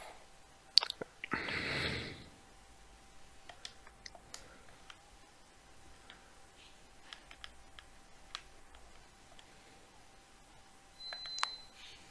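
A phone gives faint electronic beeps at scattered moments, with a longer tone near the end, quiet and sparse against a near-silent room.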